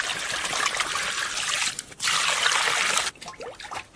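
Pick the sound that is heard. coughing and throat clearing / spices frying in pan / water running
water running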